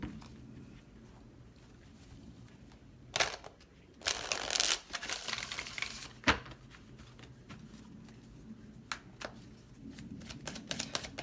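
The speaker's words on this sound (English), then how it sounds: "So I'm gonna shuffle one more time." Tarot cards riffle and flutter in a few quick bursts, with softer taps and shuffling between them in a quiet room.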